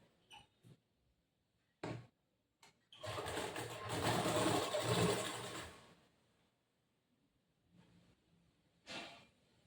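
A sewing machine stitches a boat neck blouse in short bursts, with one longer loud run of rapid stitching in the middle and brief clicks before and after, close and alone.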